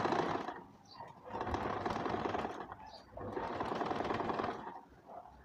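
A sewing machine stitching skirt panels runs in close, rapid bursts, two long rattling runs of stitching with short pauses between them.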